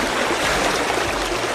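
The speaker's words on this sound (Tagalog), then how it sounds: "Medyo malakas po yung agos ng ilog mga kababayan." Strong river current rushes steadily during a river crossing, a dense, continuous broadband roar of water close by with no talk.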